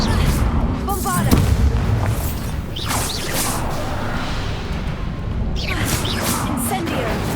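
Booming explosions from the Bombarda spell in Hogwarts Legacy, set in a haunted Hogsmeade, roar continuously with whooshes and crashes, loud and dense throughout, under a brief spoken incantation.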